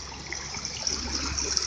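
Water from a flooded creek pours over a small island, making a steady rushing and trickling flow with a bright hiss, close by and continuous.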